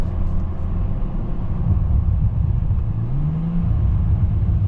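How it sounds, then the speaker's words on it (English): 2019 Bentley Continental GT W12 heard from inside the cabin, a loud low droning engine rumble with a rising rev sweep, though distinct exhaust pops and crackles are not clearly picked out. "W12 with some pops and crackles on the upshift and on the overrun when you release the throttle."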